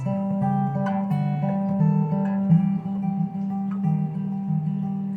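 Guitar playing an ascending passage from a song, a continuous melodic line stepping upward over a low sustained drone, clear and close without any talking.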